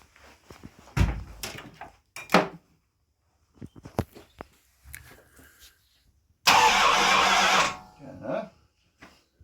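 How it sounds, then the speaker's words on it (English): A Jaguar XJS V12 with the fuel pump off cranks on its starter in a short loud burst after scattered clunks and knocks, and voices talk nearby. "Just cranking it with no fuel pump on."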